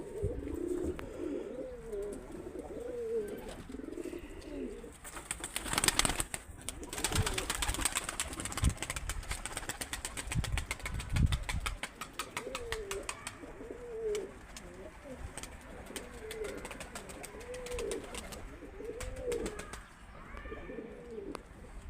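Pigeons cooing in repeated soft, throaty phrases near a loft, with a burst of louder rustling and flapping midway and a voice speaking faintly at times.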